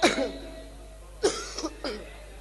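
Several coughs from a poet at a mushaira, one sharp burst at the start and then a cluster of three shorter coughs about a second later, close and fairly loud in a quiet room.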